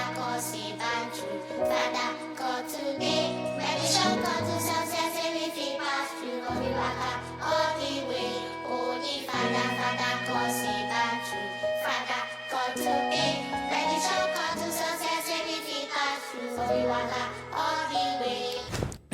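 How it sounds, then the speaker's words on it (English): Afrobeats-style track in which a children's choir sings layered, chantlike vocal lines over bouncing drums and bass, full and continuous throughout. "Let it sound like you have a bunch of kids in a place singing into your microphone"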